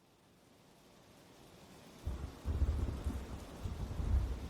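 Thunderstorm sound effect: rain hiss swells from a quiet start, then deep rolling thunder rumbles in heavy waves over steady rain, building louder toward the end.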